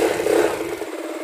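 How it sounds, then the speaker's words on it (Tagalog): A motorcycle with an overcharging, battery-draining fault runs close by, a short burst of mid-pitched engine rumble that settles into a steady idle, alone without talk. "So start ko yung engine."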